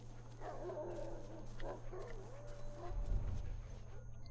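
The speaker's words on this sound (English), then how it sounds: "I hear a dog." A dog in the video game The Last of Us gives muffled barks and whines in the background, faint under game ambience and a low hum.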